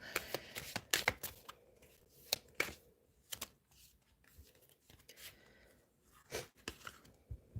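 Tarot cards are shuffled by hand in quiet, irregular bursts of riffling and snapping, close by, with soft pauses between them and no voices.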